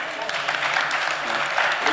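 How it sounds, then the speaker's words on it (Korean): A church congregation applauds steadily during an elder ordination ceremony, the dense clapping filling the room without a break. "계속 박수해 주시면 좋겠습니다"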